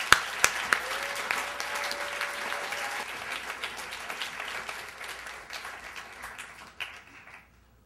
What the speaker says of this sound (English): Let's hear it for Paul Hoffman.